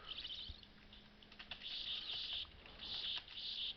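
Bird chirps from the video game Castlevania 4 come in repeated bright, high twittering bursts over faint game background sound, with no talking.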